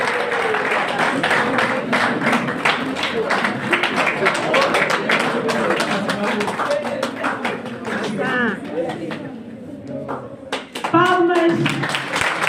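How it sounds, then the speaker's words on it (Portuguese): Steady applause from an audience at a journalism diploma ceremony, many hands clapping together throughout, with a voice speaking over the clapping near the end. "Palmas."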